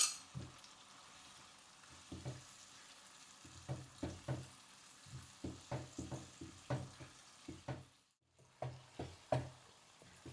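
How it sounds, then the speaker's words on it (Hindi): Yogurt is stirred into chicken maash ki daal frying in a pan, a quiet sizzle under repeated soft scraping strokes of a spoon in an uneven rhythm, close and faint, with a brief pause near the end. "अब हमने इसमें ये दही ऐड कर देना है, और दही ऐड करके ना हमने फ़ौरन इसको मिक्स कर देना है हल्के हाथ से"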